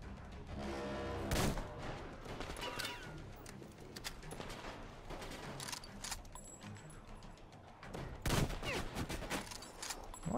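Gunfire crackles in the video game Metro Exodus, a loud sustained barrage with sharp, heavier shots standing out near the start and again toward the end.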